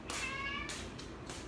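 A house cat meows several times in a row, close and fairly loud, the calls rising and falling over a steady background rumble.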